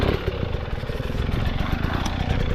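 A GasGas enduro motorcycle engine works on a creek climb, a loud, close, steady throbbing drone with a rough, pulsing texture throughout.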